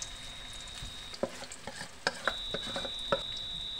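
Banana flower fritter batter fries in soybean oil, a soft steady sizzle punctuated by sharp clicks and scrapes of stirring, close and fairly quiet, with a thin tonal whine in the background and no voices.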